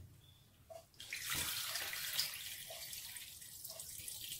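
Water pours in a steady rush into a pot of beef ribs and onions for beef sinigang, starting after a second and continuing softly with faint drips and clinks; no talking.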